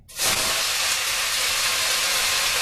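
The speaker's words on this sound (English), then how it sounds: "This is going to make a big sizzle" Soaked onions hit hot olive oil for a Kazakh plov with a sudden loud, steady sizzling hiss that starts abruptly and holds, close and alone.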